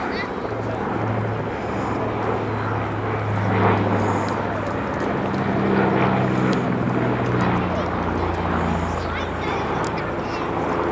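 A Catalina flying boat making a display pass at the RAF Cosford airshow in 2022, a droning propeller engine rumble with shifting pitch heard at a distance beneath a voice talking throughout.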